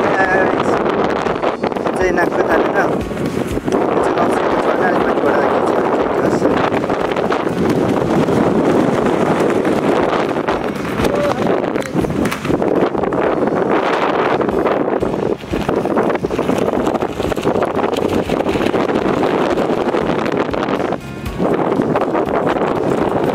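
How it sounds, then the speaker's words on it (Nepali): Strong wind blows at Dhumba Lake in Mustang, about 2830 m up, as a loud, continuous roar and buffeting against the microphone for the whole stretch. "धुम्बा तालमा साह्रै हावा चलिसकेको छ"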